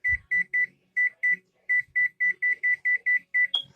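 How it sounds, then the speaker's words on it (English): A kitchen timer emits a rapid series of short, bright electronic beeps, about fifteen in quick succession with brief gaps, close and clear, ending in a slightly higher tone. "And I will set this timer for"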